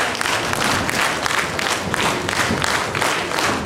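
A school audience bursts into sustained applause at a Teachers' Day celebration, dense and even clapping from many people filling the hall, loud and continuous.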